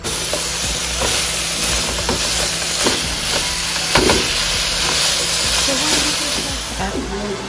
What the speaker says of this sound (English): we're gonna go ahead and saute our sausage right now